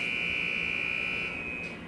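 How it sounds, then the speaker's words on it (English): A sustained electronic buzzer sounds in a basketball gym, signalling the start of the second half of a women's college game between UA Cossatot and National Park; the steady tone holds for about two seconds over faint crowd murmur. "the buzzer alerts the players and the referee that we're ready to start"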